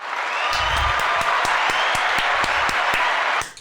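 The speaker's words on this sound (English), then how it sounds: "Let's give her a round of applause." A small podcast studio audience applauds a guest, dense clapping mixed with sharp individual claps, steady and fairly loud for several seconds before stopping abruptly.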